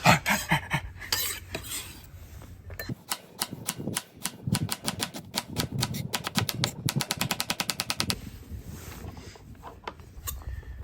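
A knife rough-chops vegetables for a Denver omelette on a cutting board, with bursts of rapid, evenly spaced chops, close and crisp, in quick rhythmic runs.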